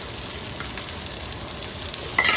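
Onions frying in a little hot oil for ratatouille, a continuous bright sizzle held close and even, with a brief clink near the end.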